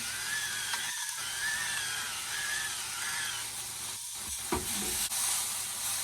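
Daikon radish stir-fried in a pan, a steady close sizzle with scraping stir strokes throughout and no voices.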